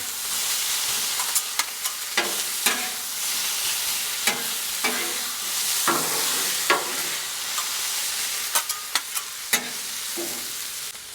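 Chicken fajitas sizzle steadily on a Blackstone griddle, a continuous loud hiss broken by repeated sharp scraping clicks of a spatula as the pieces are flipped and stirred.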